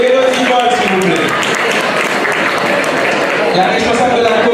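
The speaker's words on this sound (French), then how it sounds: "Je vous demande de les applaudir maintenant" An audience at a live quiz challenge event in Paris breaks into dense, steady applause, loud and sustained, with crowd noise throughout.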